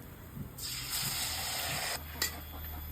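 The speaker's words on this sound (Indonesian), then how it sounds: "Saiki digoreng iki suweke" Suweg (elephant foot yam) pieces cut into long stick shapes fry in a pan with a steady, close hiss that swells and holds, then drops briefly before continuing; no voices.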